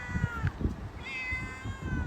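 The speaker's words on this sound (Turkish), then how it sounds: "Nasıl diyor? Miyav diyor." A cat meows in a park, two or three clear mewing calls over low background rumble and faint handling noise, close to the microphone, with no talking.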